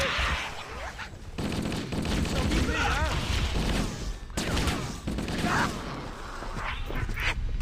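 Rapid bursts of gunfire from the Halo CE VR mod fill the scene, loud and close, with dense volleys and brief pauses, layered with in-game explosions and clatter.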